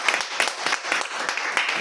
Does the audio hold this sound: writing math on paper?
no